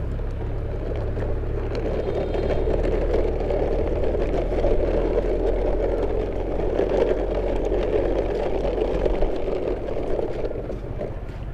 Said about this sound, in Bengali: তো এখন এই ব্যান্টেন কারটিকে আমরা একটু হ্যান্ড ড্রাইভ করব।